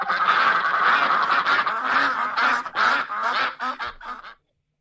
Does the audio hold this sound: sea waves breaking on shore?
no